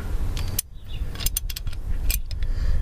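A ratchet tightens the oil drain plug on a fourth-generation Toyota 4Runner with a 4.0 V6, giving rapid metallic clicks in several short bursts, loud and close, with bits of tool and metal handling between them.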